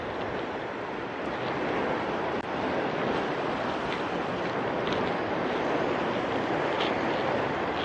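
Steady seaside wind at Bang Pu, Samut Prakan, rushing across the microphone as a constant broadband roar. Waves may wash underneath, and it stays even and loud throughout with no voices.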